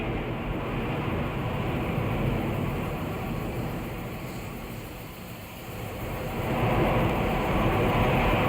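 An Atlas 5 rocket on its RD-180 engine climbs through the sky at launch, a broad continuous roar that dips slightly in the middle and swells again toward the end, heard alone without voices.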